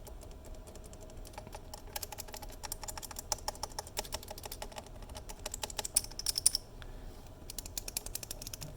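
A quiet 3D-printed keyboard key switch is pressed again and again in quick, irregular bursts of soft clicks, close and fairly faint, with no talking.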